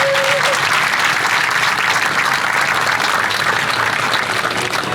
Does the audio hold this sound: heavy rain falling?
no